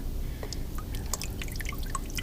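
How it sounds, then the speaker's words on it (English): Water poured into a rain shower cup at a homemade baby water table drips through its holes, making scattered light drips and small splashes over a steady wash of running water. "I'll pour it into the rain shower cup"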